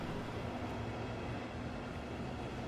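A train in the video game Train Sim World 2 starts to move with a steady, loud, broadband rumble and hiss that fills the short stretch without any voices.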